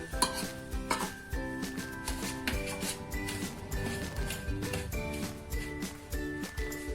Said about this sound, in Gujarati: હવે આ બધું સરસ આપણે મિક્સ કરી દઈશું.